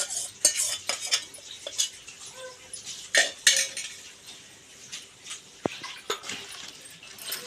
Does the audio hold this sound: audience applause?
no